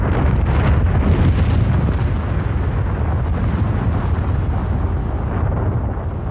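A loud, continuous deep roar of a massive volcanic eruption, rumbling heavily without pause and slowly fading slightly toward the end.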